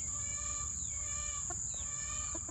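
Roosters and hens on a farm cluck and call faintly in short bursts over a steady, constant background hum.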